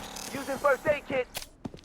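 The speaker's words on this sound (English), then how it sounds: "Using first aid kit." A first aid kit used in the shooter game Blood Strike: a short in-game voice cue followed by quick, close mechanical clicks and ratcheting snaps.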